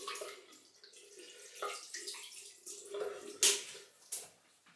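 A shaving brush is wet under running water at a sink: a soft, close splashing and trickling with a couple of brief louder spatters near the end, no talking.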